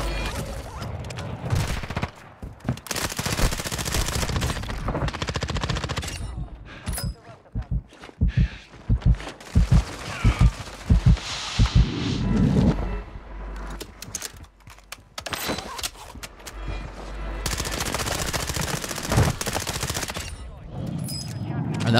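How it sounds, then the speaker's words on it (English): Enemy gunfire in the Warzone 2 video game, dense bursts of rapid shots and fusillades rattling through most of the stretch, with loud overlapping clusters and brief gaps between volleys. "Right, that was the guy shooting at me."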